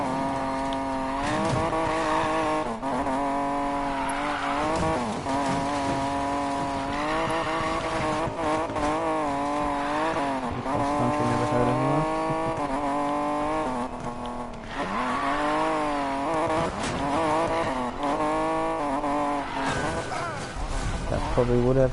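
Car drifting through turns in the Need for Speed Payback racing game, with a steady, loud, harmonic engine whine that rises and falls with throttle and tire squeal mixed in, continuous and close with a few brief breaks.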